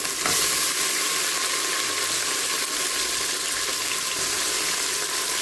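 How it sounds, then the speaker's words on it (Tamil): Chicken pieces frying in a pan with ginger garlic paste for a Ramnad-style chicken kulambu, giving a steady, loud hiss and sizzle that carries on without a break and without voices. "சிக்கன் கொஞ்சம் நேரம் வதங்கட்டும்."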